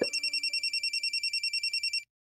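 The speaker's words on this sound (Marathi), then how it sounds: "फोन आहे, एकच सेकंड." A telephone rings in a steady run of about fifteen rapid electronic trills, loud and close, then stops abruptly; no talking over it.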